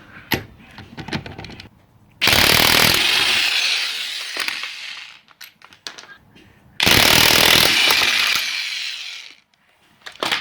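A Makita electric power tool starts with a loud roar, runs for a few seconds, cuts off, then roars again in a second burst, with clanks and handling knocks in between.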